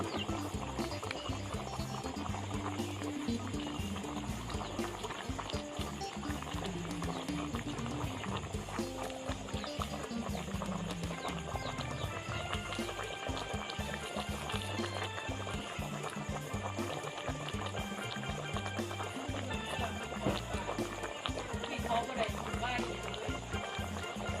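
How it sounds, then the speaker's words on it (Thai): Water bubbling and churning at a steady boil in a pot for cooking a giant snakehead fish head soup, close by, with people talking over it throughout. "น้ำเดือดแล้วครับ"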